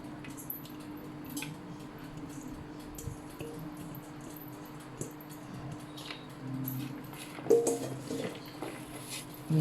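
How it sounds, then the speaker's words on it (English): Coated cauliflower for keto cauliflower mac and cheese is poured into a baking tray, giving soft squishy drops and scattered light clatters against the tray, close by and fairly quiet. "pour all the cauliflower into a baking tray"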